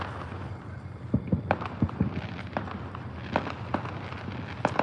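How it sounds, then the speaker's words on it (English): Fourth of July firecrackers popping in an irregular string of sharp cracks and bangs, fairly close, over a rumbling outdoor background. "Go and get some of these firecrackers."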